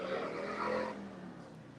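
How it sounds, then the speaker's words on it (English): A motorcycle engine revs as it passes nearby, a brief rising growl that peaks and then quickly fades away into the distance. "that was a badass motorcycle"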